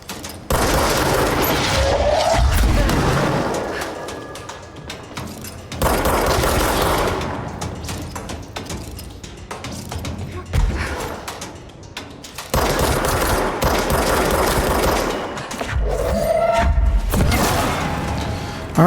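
Enemy rocket fire in the video game Control: dense, loud bursts of gunfire and booming launches keep coming in heavy waves with brief lulls between them, and the roar stays close and sustained throughout.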